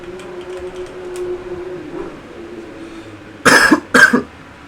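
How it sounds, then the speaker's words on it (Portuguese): A man with a cold gives two light, short coughs close to the microphone near the end, following a stretch of quiet background hum. "tô dando umas tossidas de leve"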